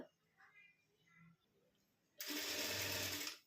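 Sewing machine running a pressed stitch along the edge of a puff sleeve; a brief burst of continuous whirring stitching after a quiet stretch with faint voice sounds, close and moderately loud.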